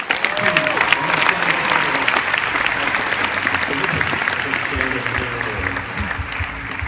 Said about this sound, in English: let's give the President a nice round of applause before we move on